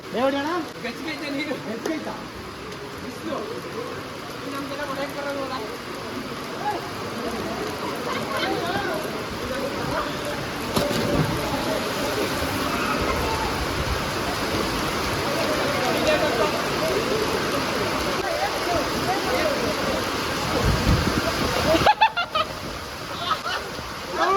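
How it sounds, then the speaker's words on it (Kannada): Heavy rain pours down steadily and loudly at a public swimming pool in JP Nagar, Mysore, a dense unbroken hiss that lasts the whole time, with a brief sharper splash near the end. "ಜೋರು ಮಳೆ ಬೀಳ್ತೈತೆ."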